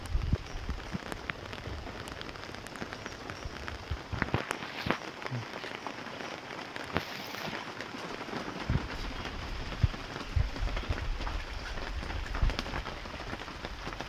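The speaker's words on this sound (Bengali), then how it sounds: "বেশি টিপ টিপ টিপ টিপ টিপ টিপ করে বৃষ্টি হচ্ছে" Light rain patters steadily on a surface, a soft, even hiss of droplets with occasional sharper drips, close and constant throughout.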